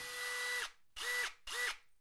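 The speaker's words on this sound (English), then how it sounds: "That's where I hold down the trigger and the RPMs are spinning at the highest point." A DeWalt 20V Max drywall screwgun revs at top speed in three bursts, a high whining motor spin-up and wind-down heard close and alone, the first burst longest.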